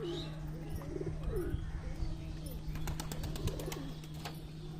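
Several domestic Giribaz pigeons coo softly and steadily from a loft, with low murmuring calls overlapping throughout against a faint background hum and a few light clicks.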